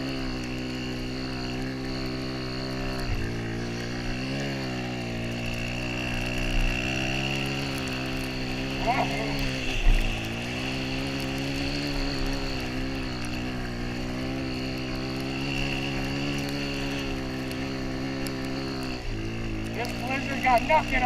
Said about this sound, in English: wide open on the throttle, just ripping through the snow